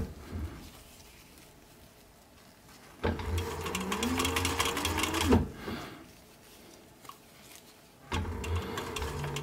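A sewing machine stitches a fabric sun visor right up against its plastic insert, running in a steady close whir for a few seconds, pausing, then starting again.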